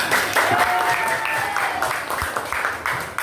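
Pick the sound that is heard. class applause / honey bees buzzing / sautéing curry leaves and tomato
class applause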